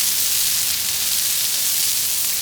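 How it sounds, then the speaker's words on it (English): Onions sizzling in olive oil on a flat griddle, a loud, even, bright hiss that stays constant for the whole short stretch. "we're gonna plop the onions on, get that satisfying sizzle going"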